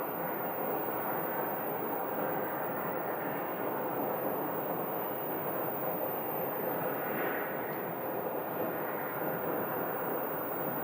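A Frontier Airbus A320 lands on runway 8 at Phoenix Sky Harbor, heard as a steady, broad jet roar that holds at an even level from start to finish, without any voices.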